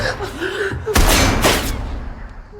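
Two heavy gunshot blasts ring out close together in a tense film scene, with a brief voice beforehand and a reverberant fade after the shots.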